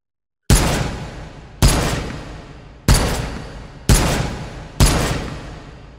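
Five loud, close M1D rifle shots ring out in the H3VR game, spaced about a second apart. Each sharp crack trails off in a long echoing decay before the next.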